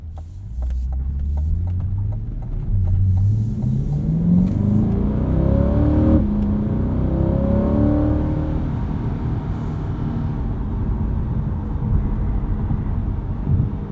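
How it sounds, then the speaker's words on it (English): A 2020 Chevrolet C8 Corvette Stingray with the performance exhaust and an 8-speed gearbox accelerates hard, its engine note rising through the revs and a gear change in a loud, steady roar heard from inside the car. "This sounds pretty good too with the performance exhaust."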